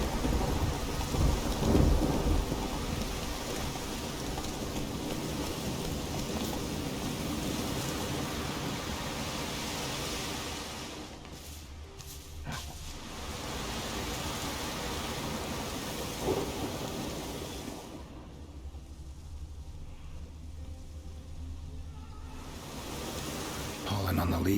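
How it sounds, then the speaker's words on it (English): Heavy rain pours steadily in a thunderstorm in the video game The Witcher 3, with rolling thunder rumbling through and a character's voice speaking briefly over the downpour. "Damn storm."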